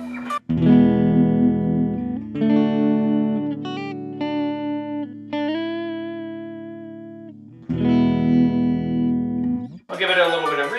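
Electric guitar played through a Tone City Comp Engine compressor pedal into a Fender Frontman amp, sustained chords and single notes ringing evenly with smooth, held decay, loud and close, a brief bright strum at the end.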